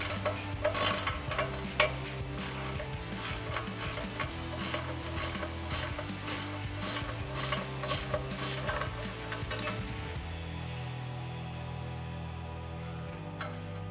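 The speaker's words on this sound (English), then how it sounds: "we can get our 21mm ratcheting wrench on top and a 10mm socket on the bottom" A 21mm ratcheting wrench loosens a ball joint nut on a Dodge RAM 1500, producing close, quick rhythmic clicking strokes for about ten seconds, followed by softer mechanical rubbing.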